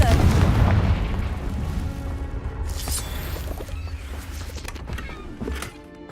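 A Confringo blasting spell in Hogwarts Legacy bursts with a heavy, booming explosion at the start, its rumble decaying over several seconds with faint crackling debris trailing after.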